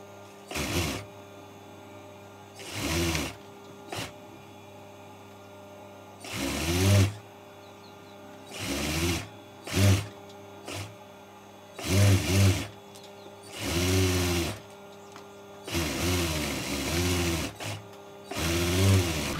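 A sewing machine stitches a pocket onto a pair of shorts in repeated short runs. Each run lasts about a second, with brief pauses of handling between them, and the machine sounds close and clear.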